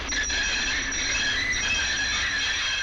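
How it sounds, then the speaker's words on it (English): High-pitched metallic squealing holds steady throughout as a train's brakes screech to a stop on rails, with a low rumble underneath. "With a quick squeal of their brakes, the train screeched to a stop."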